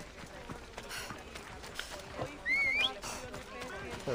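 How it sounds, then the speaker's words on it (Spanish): A horse gallops with rapid clip-clopping hooves and lets out a neigh in the video game Assassin's Creed Odyssey, heard mid-distance amid game ambience with a faint whistling tone. "Caballo."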